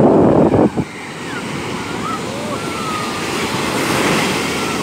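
Ocean waves break on a crowded beach in Portugal. A loud crash opens the clip, then the surf settles into a continuous roar with wind buffeting the microphone, and the sound swells again toward the end.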